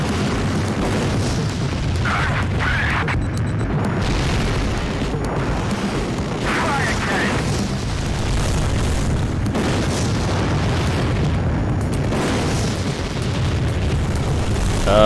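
Aircraft are destroyed in the Ace Combat 3D flight game amid a dense, continuous roar of engine and battle noise, with muffled booming blasts rising out of it every few seconds.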